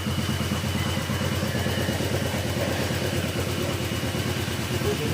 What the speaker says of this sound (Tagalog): ito yung tunog ng makina